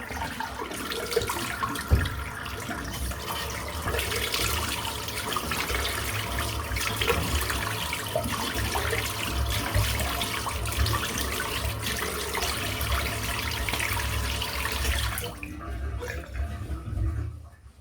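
Running water rinses a razor for about fifteen seconds, a steady, moderately quiet splashing flow that cuts off near the end; no talking.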